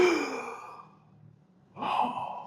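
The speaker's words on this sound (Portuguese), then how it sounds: "Uma voz pesada, sofrida, uma respiração arfante de alguém que tem dificuldades de respirar." Heavy, laboured breathing of the Nosferatu film character, a long rasping exhale that fades to near silence, then a second strained breath swells in close and loud, with no talk.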